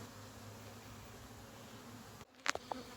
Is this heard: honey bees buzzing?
yes